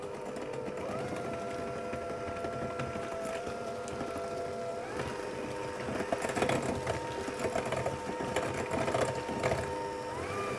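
An electric mixer whirs steadily as eggs are beaten one at a time into batter for paradise slice bars, its motor tone shifting pitch partway through and growing rougher and louder toward the end, with no talking.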